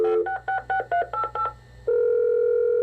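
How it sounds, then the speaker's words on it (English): A 1994 home computer automatically dials a phone number. Seven quick, evenly spaced DTMF beeps play loudly and clearly, followed by a steady tone that holds. "have your home computer store phone numbers and even dial the phone for you"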